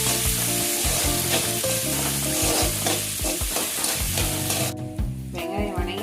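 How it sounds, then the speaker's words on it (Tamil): Onions, green chillies and curry leaves sauté in a pan for South Indian potato podimas, a loud close sizzle with repeated scraping stirs of a spatula throughout. "இதை நல்லா வதக்கிட்டுருங்க"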